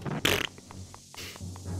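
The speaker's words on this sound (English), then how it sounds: "Good fart sound when you drop the..." A fart sound effect plays in the Zelda video game A Link Between Worlds when a bomb is dropped, a short blurting burst followed by lighter clicks and a second low rumble, heard alone without talk.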